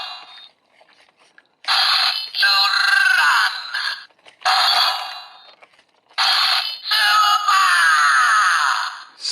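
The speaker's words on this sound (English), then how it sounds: "we can open and close the jaws here so we can get some extra noises" A Zenkaiger DX Zenkaijuoh toy gives three loud electronic screaming bursts as its jaws open and close, with short quiet gaps between them.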